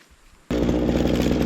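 A grass cutter kicks in abruptly in a field, its loud, buzzing two-stroke engine running steady and close after a brief quiet moment.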